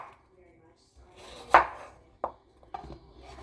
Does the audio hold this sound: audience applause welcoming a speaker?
no